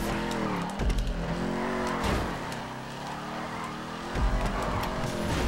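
A race car in GTA 5 Online revs hard while its tires squeal and skid through a slide. The engine note rises and falls loudly over several seconds.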